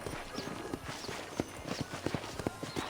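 Horse hooves clip-clop at a steady walking rhythm in the Red Dead Redemption video game, each fairly close and clear footfall standing out over a soft ambient background.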